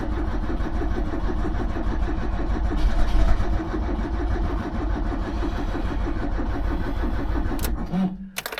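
A Talbot Express van engine is cranked and started on choke, a loud close chugging and rumbling that runs steadily before cutting out near the end, with some speech partly over it.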